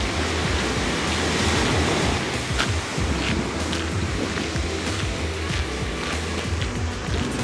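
Waves wash along the Atlantic coast near Porto on a walking route, a steady broadband surf roar that holds close and loud throughout with no voices.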